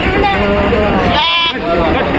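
Goats bleating close by at the Puthiyamputhur goat market in Tamil Nadu, overlapping calls rising over a busy babble of traders' voices and market chatter.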